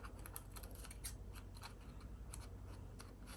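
Scissors snip through cardstock in a quick run of sharp, close cuts, a little irregular in rhythm, with no talking.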